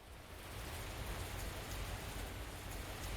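Steady rain ambience in the video game Kikokugai, a dense, even hiss of falling rain that fades in and then holds constant, with no voices.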